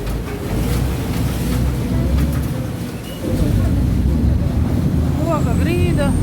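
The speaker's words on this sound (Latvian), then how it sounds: "Mūsu laiviņi pa vienkāršo." A small boat motors across water in Thailand, a steady engine drone with wash and splashing close by throughout, and a brief whistle near the end.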